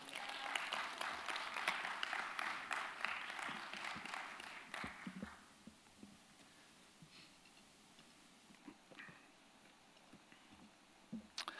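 A church congregation applauds warmly to welcome a pastor to the stage at a Wednesday dawn service, dense clapping loud for the first five seconds, then thinning to scattered claps and quiet room noise.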